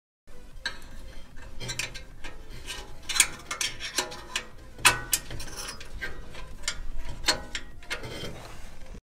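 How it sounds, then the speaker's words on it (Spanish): A screw is worked back into a heating unit's part after cleaning, giving a steady series of close, small metallic clicks and ratcheting scrapes, with no talk. "Y vuelves a poner el tornillo también."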